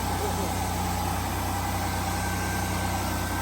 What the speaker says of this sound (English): That's a running car.